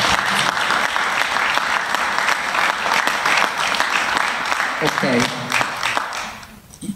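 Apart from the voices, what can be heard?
audience applause at a talk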